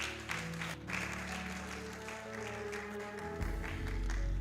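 A church congregation at a Sunday service claps and cheers together, steady applause mixed with music and voices, fairly faint, swelling louder near the end.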